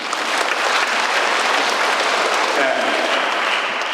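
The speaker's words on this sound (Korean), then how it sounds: "박수를 쳐드립니다" An audience at a lecture claps in a sustained burst of dense applause filling the room, steady from start to finish, with a brief spoken word in the mix.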